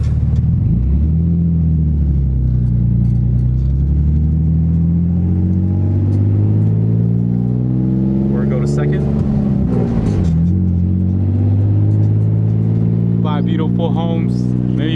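A Nissan 350Z engine revs hard in first gear, rising and falling in pitch through several pulls, close and loud with a deep rumble, and a few short bursts of voices in between.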